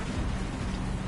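Steady, dense video-game rain hisses continuously, a loud broadband wash with no voices.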